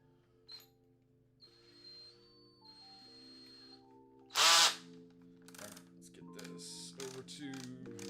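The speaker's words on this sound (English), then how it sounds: "drilling, no ratchet." A power drill bores into a closet wall: a whining motor shifts through several steady pitches, then a loud, short burst of drilling bites in, followed by lighter rattling and clicks.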